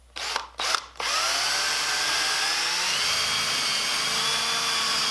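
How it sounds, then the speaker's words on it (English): A power drill fitted with a 3/8 inch Forstner bit bores through wood, giving two short revving bursts followed by a loud, sustained whine close by as it cuts steadily through to the end. "I got a 3/8 Forstner bit. And we do want to go through."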